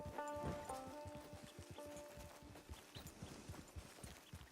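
Horse hooves clip-clop in a steady walking rhythm in Red Dead Online, quiet and close. A brief tonal musical swell plays at the start, and no one talks over it.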